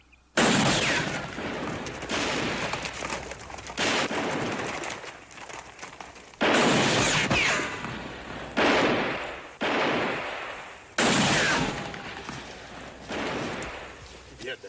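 Gunfire in a western TV episode, a series of loud, sharp shots spaced a second or two apart, each ringing out with a long echoing tail. Voices shout among the shots.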